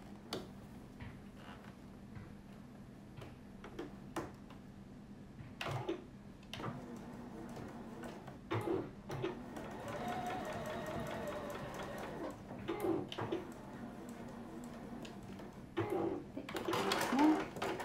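A sewing machine stitches a 1 cm seam on a fabric zipper pocket for a sacoche bag. A steady mechanical whir runs through the middle, among soft handling ticks, while a voice talks intermittently.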